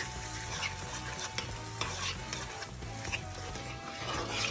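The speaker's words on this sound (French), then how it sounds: "On mélange bien." Cauliflower curry sauce made with coconut cream being stirred in a hot pan, a steady soft scraping and sizzling that runs continuously at close range with no talking.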